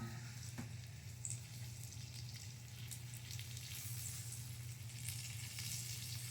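Pork chop fat sizzles steadily in a skillet, a continuous close hiss with fine crackling pops and no talking.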